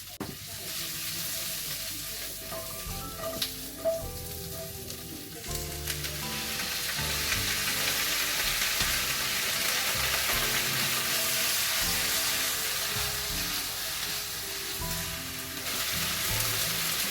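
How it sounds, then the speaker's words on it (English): Pak choy stems frying in a pan, a steady crackling sizzle that swells louder after a few seconds and keeps up with small clinks and shifts from the pan. "Then we're going to cook our pak choy. We start with the stems because they take longer to cook"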